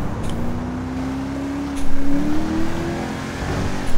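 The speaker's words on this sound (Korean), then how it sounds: "오 엔진 소리 지린다" A car engine revving in GTA V during an LSPDFR police mode session with an unmarked Stinger, a steady loud motor drone rising slightly in pitch, close up with no talk.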